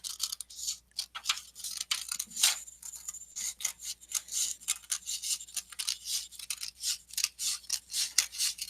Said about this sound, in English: I'm just cutting it down the line I folded.